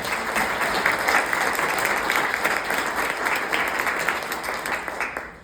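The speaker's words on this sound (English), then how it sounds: "can we have just another round of applause for Paul?" A room full of people claps for a lawyer speaker at a brunch event, a sustained even round of applause that holds steady and then thins out and fades at the end, with no talking.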